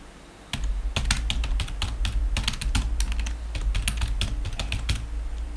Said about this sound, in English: type the user ID.